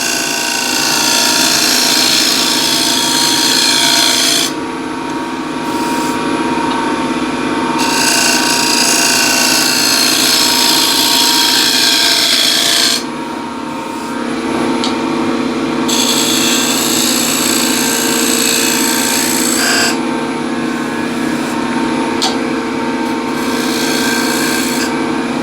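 Round nose scraper working a spinning wood blank on a lathe, a steady close rasping scrape that runs continuously, with brief changes in tone as the cut eases and resumes, and no talking.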